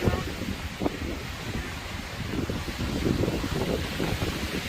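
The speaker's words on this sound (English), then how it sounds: "It is windy up here." Wind buffets the microphone atop Clingmans Dome, Tennessee, on the Appalachian Trail, a steady rushing roar with gusty low rumble and no voices.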